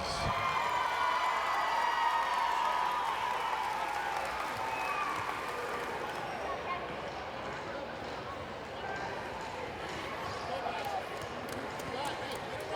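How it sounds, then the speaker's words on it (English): A crowd at a varsity high school basketball game applauds the Fairmont cheerleaders, the clapping dense and loud at first, then thinning as a voice speaks over it. "Let's give all these cheerleaders and the future of Fairmont Cheer a big round of applause."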